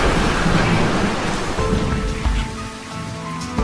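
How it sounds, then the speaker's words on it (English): Steady heavy rain hisses down through a raging storm as a film sound effect, dense and close, with a low thunder rumble beneath it that eases off partway through. "Outside, the storm raged"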